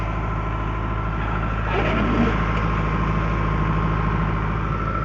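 The diesel engine of a late-1980s Cat 943 loader idles steadily nearby, a constant low rumble with a faint rise in noise partway through.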